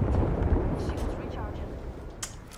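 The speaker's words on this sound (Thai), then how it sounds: "ปาระเบิดใส่ประตูไอ้บ้านกลาง" A grenade blast in the video game Apex Legends, thrown at the door of a middle building, gives a deep, rumbling boom that spreads into noisy rubble and crackle while people talk over it.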